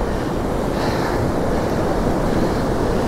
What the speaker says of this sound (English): A lot of backwash.